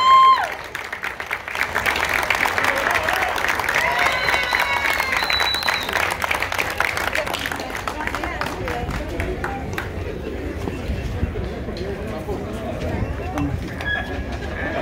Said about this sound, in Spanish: un aplauso para ellas tres